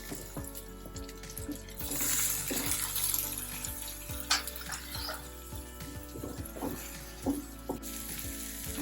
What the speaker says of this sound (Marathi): कांदा परतून झाल्यावर आपल्याला टोमॅटो टाकून घ्यायचा